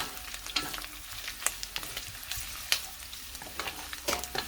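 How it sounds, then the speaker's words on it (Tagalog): Pork frying and toasting in its own rendered fat in a pan, a steady sizzle broken by frequent sharp crackles and spatters, close up with no talking. "wait lang natin guys na medyo matoast-toast yung ating pork"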